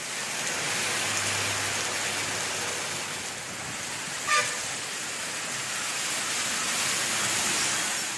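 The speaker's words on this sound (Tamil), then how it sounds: "2 மணி நேரத்திற்கு மேலாக கனமழை பொழிந்தது" Heavy rain pours steadily in Sivaganga, Tamil Nadu, a dense broadband hiss of drops on the ground and road, with a brief vehicle horn toot in the middle and faint traffic underneath; no voices.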